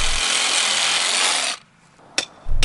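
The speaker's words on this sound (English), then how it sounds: "Using a hacksaw or sawzall, cut on the 5-inch mark." A hacksaw or Sawzall cuts through a 10-inch brace pin while a horse fence brace is assembled. A loud, steady rasping saw runs for about a second and a half, then stops, followed by quiet and one sharp knock.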